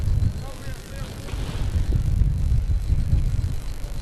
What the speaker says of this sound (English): Real gust of wind just sweeps through here.